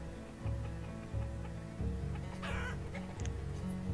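Chickens clucking in the city-building game Banished, repeated clucks over a steady rhythmic ticking background, moderately faint, no talking.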